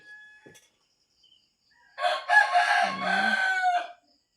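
A rooster crows once, loud and close, a drawn-out harsh call lasting about two seconds after a brief faint click.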